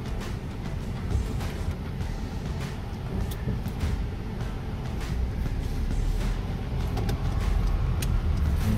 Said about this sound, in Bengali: রিকি ড্রাইভ শুরু করে দিয়েছে।